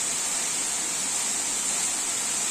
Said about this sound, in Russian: Водопад действительно большой,